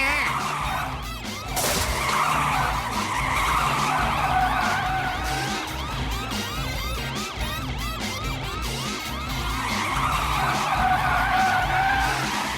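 A cartoon car races at speed with screeching, skidding tires and a wailing siren mixed in, loud and continuous with busy music-like layers and no speech.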